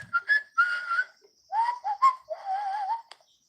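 A person whistles a short wavering tune in several separate phrases, some rising and some falling, close and clear against silence.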